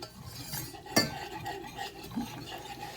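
A flour and butter roux is stirred in a pan, with soft continuous scraping and a single sharp clink of the utensil against the pan, close and quiet.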